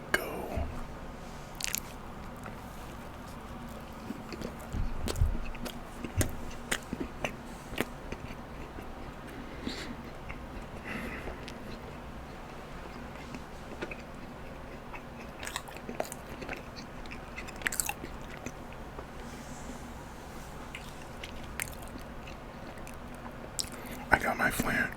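Gourmet chocolate chunk cookies with cold milk being bitten and chewed up close, with soft crunchy bites and mouth sounds scattered through, a fan hum underneath and occasional quiet whispered talk.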